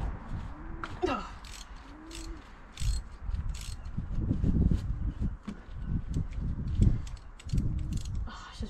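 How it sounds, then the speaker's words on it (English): Socket wrench ratcheting in short clicking bursts while working on a misfiring low-mileage Fiat Punto engine, close and moderately loud, with scraping and handling noises between strokes. "Found a way once again for the socket to get in there."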